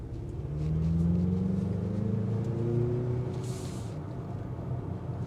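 A 2025 Mazda CX-50 in sport mode accelerating, its engine note rising in a steady, sweeping drone with a low rumble of road and cabin noise, moderately loud and continuous without talk.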